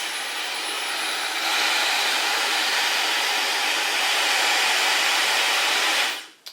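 Steady loud whoosh of a Dyson hair dryer blowing, stepping up in intensity after a moment, then switching off with a quick wind-down.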